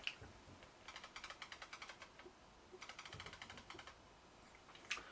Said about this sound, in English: Clicked aperture ring